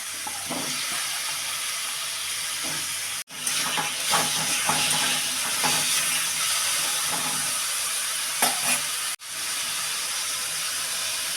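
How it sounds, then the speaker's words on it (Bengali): Potato pieces frying in hot oil in a wok, a steady broadband sizzle with scattered crackles and stirring scrapes, briefly cut off twice before resuming, with no talk. "কড়াইতে তেল নিলাম, তারপর আলুগুলো লাল লাল করে ভেজে নিলাম"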